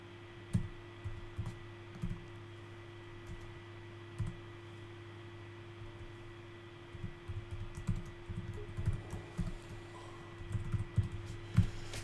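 Typing on a computer keyboard while working in SQL Server Management Studio, with quiet irregular bursts of key clicks over a steady low hum, close but faint, with no talk.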